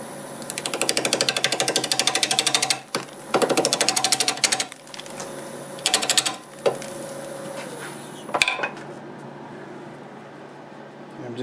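A wood lathe spinning at 760 RPM while a freshly sharpened 5/8 bowl gouge cuts a plum crotch bowl blank, giving bursts of rapid rattling chatter that stop and start, separated by quieter gaps with a sharp knock near the end.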